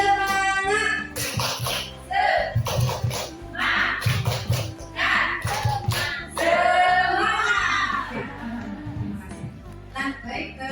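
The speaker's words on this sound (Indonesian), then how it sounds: "tepuk semangat." A group performs a rhythmic patterned clap at a community nutrition education contest for National Nutrition Day, with bursts of clapping alternating with a voice and music.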